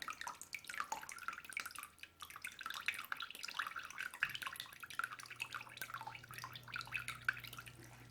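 Whey drips steadily from cheddar cheese curds draining in cheesecloth, faint, close, irregular wet drips and trickles over a quiet low hum.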